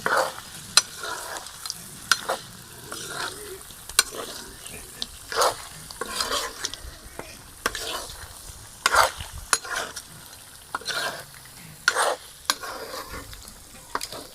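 Duck meat cooked with masala sizzles steadily in a pan while a utensil stirs and scrapes, with frequent sharp clicks and scrapes over the frying hiss, close by.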